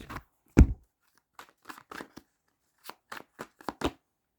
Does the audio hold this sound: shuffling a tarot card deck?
yes